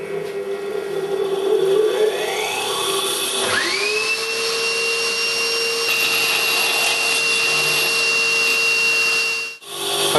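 Abrasive wheel grinder spinning up to a steady high whine, running alongside the continuous roar of a hoover used for dust extraction, loud and close, with a brief dip near the end.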